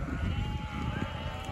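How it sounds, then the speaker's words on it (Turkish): Sheep bleating on a mountain pasture while being brought to water, several overlapping calls from the flock, fairly close and steady, with wind and low rumble underneath and no talk. "Koyunlarımızı üçüncü defadır suluyorum, suyun üstüne getiriyorum."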